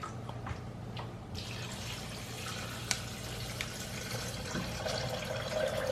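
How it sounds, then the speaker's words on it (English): Water pours steadily into a blender, a continuous splashing trickle with a few small clinks, no talking. "We're going to add water."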